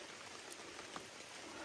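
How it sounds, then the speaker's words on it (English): Rain falls steadily outdoors during a survival fire-starting attempt, a soft, even hiss of drops with faint scattered patters, distant and quiet. "rain"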